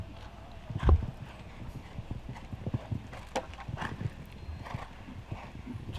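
Horse hooves clip-clop on an arena surface during a showjumping round, a steady, fairly distant rhythm of soft thuds with one heavier knock early on, under low background ambience.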